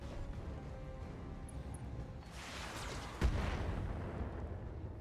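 Mech weapons fire strikes turrets in the game BattleTech: a low rumbling barrage builds midway and peaks in a sharp, heavy impact boom, followed by continued rumble, fairly close with no voices.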